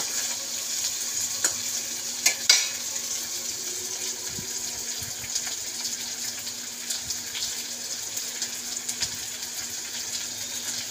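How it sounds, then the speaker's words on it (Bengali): Onions with nigella seeds are stirred as they fry in a pan: a continuous near hiss of sizzling with scattered scrapes and a couple of sharper clinks early on. "এই যে পেঁয়াজটা ভাজা ভাজা হয়ে গেছে,"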